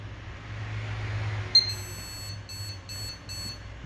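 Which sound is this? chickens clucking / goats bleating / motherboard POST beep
motherboard POST beep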